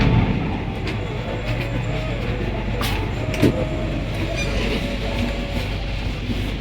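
Steady low rumble of a train rolling along the rails, with faint clinks and rattles now and then, continuous throughout.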